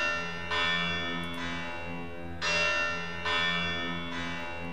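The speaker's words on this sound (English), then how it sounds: "Switch over to our bell sound." Synthesized bell tone used in a ring modulation demo, ringing in sustained, harmonic-rich strikes that repeat roughly every second, alone with no talk.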